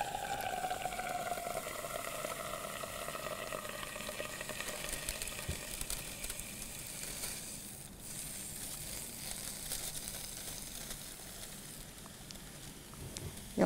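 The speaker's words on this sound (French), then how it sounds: "Je vais donc verser de l'air liquide sur ce joli ballon." Liquid air pours onto a rubber balloon with a steady boiling, sizzling hiss and crackle, loud at first and slowly easing, with faint crinkling of the shrinking balloon.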